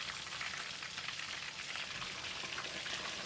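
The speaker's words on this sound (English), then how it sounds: "Use 2 spatulas to carefully turn the fish." A crispy whole fish frying in a pan of oil for Thai-style fried fish, a dense, steady hiss and crackle of sizzling that fills the whole stretch, close and unbroken, with no voices.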